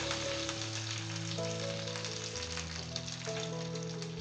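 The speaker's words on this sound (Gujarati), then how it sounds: "સમારેલા મરચાં નાખી દઈશું. મીઠા લીમડાના પાન નાખશું." Green chillies and curry leaves sizzling in hot oil with popped mustard seeds, a tempering for nylon khaman dhokla; a steady, close crackling hiss runs throughout without pause, with no talking.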